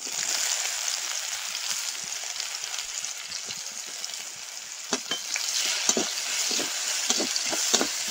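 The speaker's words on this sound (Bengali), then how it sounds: "পেঁয়াজটা ভাজা হয়ে গেছে" Chopped onions fry with black cumin in hot oil, giving a steady bright sizzle with occasional sharp crackles and stirring clicks toward the end, close and alone without voices.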